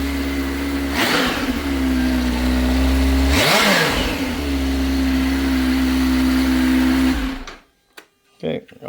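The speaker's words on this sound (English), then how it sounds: "Give it a little rev." A Kawasaki ZH2 motorcycle fitted with a Brock's Performance penta-carbon full exhaust, idling loudly nearby and then blipped twice in quick revs that flare and fall back before the engine cuts off abruptly.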